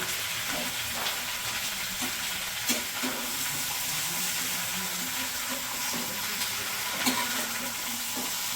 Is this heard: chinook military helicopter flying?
no